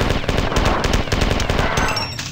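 Rapid automatic gunfire from the first-person shooter Marathon 2 fills the short burst, a loud, continuous rattle of closely spaced shots with no pause.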